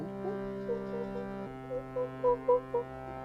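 Several short, high hooting calls from an audience imitating monkeys, rising in quick bursts over a steady droning tone in the background.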